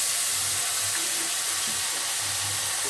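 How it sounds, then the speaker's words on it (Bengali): Water poured from a rinsed bowl into a cooking pot during a home-cooked vegetable and fish dish, a steady soft hissing splash that holds evenly throughout without any talking. "বাটিটা ধুয়ে জলটাও দিয়ে দিচ্ছি"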